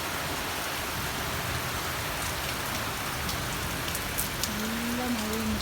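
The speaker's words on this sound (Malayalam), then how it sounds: "നല്ല മഴയാണ് കേട്ടോ" Heavy rain pours down in a dense, constant hiss, close and steady throughout, while a faint tonal sound rises near the end.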